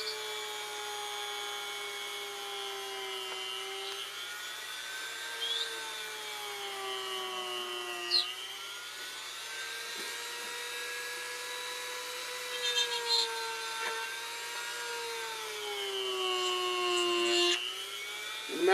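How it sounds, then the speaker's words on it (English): A Dremel rotary tool carves eyes into a piece, whining at a high steady pitch that drifts up and down as the bit bites into the material, with brief scratchy bursts, fairly quiet throughout. "I want to do a little Dremel work for the eyes"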